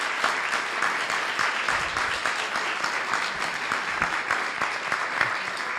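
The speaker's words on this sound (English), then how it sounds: "please one more time give a round of applause to our panelists" Audience applause for a panel at a lecture on inflation in Canada, a dense, steady clapping from a crowd that holds evenly throughout, with no talk over it.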